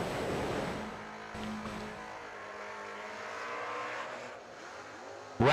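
Drag racing cars at a summer drag strip meet roar steadily through the whole stretch, a broad engine drone with rising revving tones, and a sharp loud burst breaks in at the very end.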